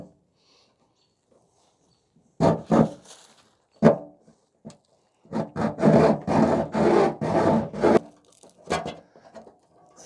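A hacksaw cuts through a metal gutter downspout in close, uneven bursts of rasping strokes, a few isolated strokes first, then a longer run of steady sawing.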